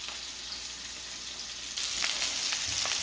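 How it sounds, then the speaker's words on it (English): Chopped onions and meat frying in a pan, a soft steady sizzle that grows louder and crackles more partway through as the food hits the hot surface. "I have my chopped onions that I'm getting ready to put in the pan with the meat"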